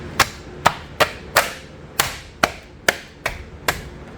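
Rapid series of about nine sharp hammer-like taps while lug nut covers are knocked onto the wheels of a 2019 Toyota RAV4, evenly spaced at roughly half-second intervals, close and crisp.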